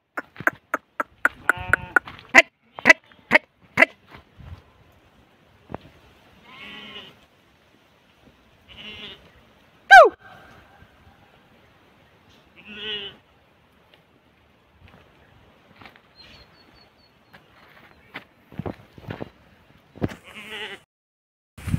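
A flock of sheep grazing on a grassy hill bleats in scattered bursts, some calls close and loud and others faint and distant, with long quiet stretches and a little human voice in between.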